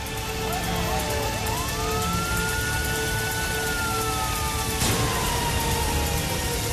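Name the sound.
emergency vehicle sirens in Kobe after the disaster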